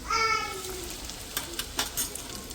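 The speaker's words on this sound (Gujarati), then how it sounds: "તેલ ગરમ થઈ ગયું છે તો અંદર થોડો અજમો નાખી લઈશું" Ajwain seeds and spices dropped into hot oil, a close sizzle with a few sharp crackling pops, and a brief voice at the start.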